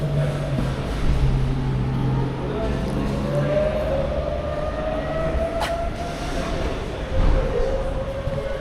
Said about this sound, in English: There's an Aventador ripping through the highway right now.